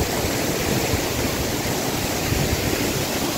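A steady, full roar of rushing water from a waterfall, loud and constant throughout with no voices.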